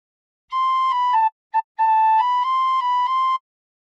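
A tin whistle plays a short melodic phrase from The Battle Hymn of the Republic, clear, steady and close, with one brief staccato note near the middle and no voices.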